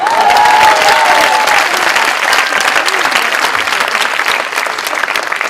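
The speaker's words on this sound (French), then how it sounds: "On l'applaudit." A conference audience applauds, dense continuous clapping that fills the room for several seconds and tapers slightly toward the end, with a brief voice over the opening.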